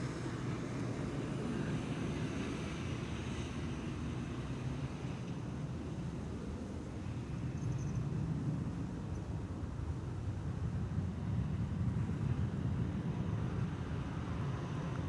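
Air Baltic flight 618 departing Amsterdam Schiphol Airport, a steady broad jet engine roar held at a distance for the whole stretch, with no talking.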